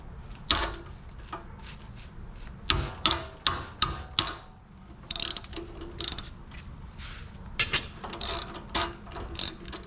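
A ratchet wrench tightens a spark plug on a Honda GX240 small engine for a go-kart, giving bursts of rapid clicking strokes, close and crisp, separated by short pauses and a few metallic knocks.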